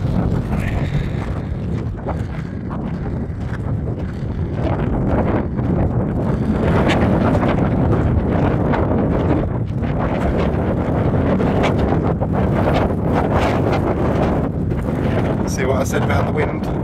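Strong wind buffets the microphone outdoors on the open sand-flats at Rye, East Sussex, a loud, continuous roar with gusting surges throughout and no clear speech over it.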